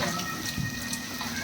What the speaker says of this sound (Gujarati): વરસાદ જામ્યો